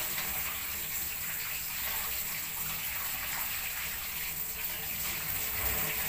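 Cold tap water runs steadily while goat tripe is rinsed, making a continuous, even, close splashing rush with no pauses.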